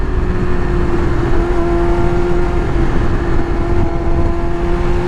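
A 2000 Yamaha R6 sport bike with a Healtech quickshifter revs hard and steadily, its engine a loud, sustained close-up drone with a constant whine throughout.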